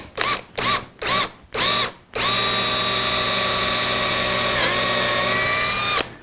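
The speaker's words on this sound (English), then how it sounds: "Now I can take this drill and drill my 1/4 inch hole straight in" A power drill boring a 1/4 inch hole in a shop whirs in four short bursts, then runs in one long, steady high whine before stopping.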